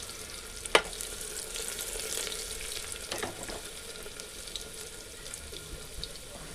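Crushed garlic sizzles as it drops into hot tempering oil in a home kitchen for a Marathi amti dish. A sharp crackle comes at the start, then a steady hiss and sputter continues with a few stirring scrapes and no voices.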